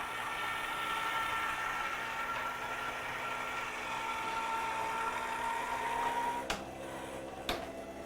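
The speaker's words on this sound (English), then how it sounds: "The best die cutting machines in the world, for some reason I still like to run them through twice." A die cutting machine runs a die through for papercraft, giving a steady mechanical whir and hum at moderate level, ending with two sharp clunks.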